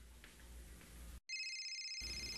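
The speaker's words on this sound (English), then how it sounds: "yung phone mo nag-ring" A mobile phone ringing indoors: a bright electronic ringtone cuts in after a brief silence, loud and steady, following a moment of low room noise.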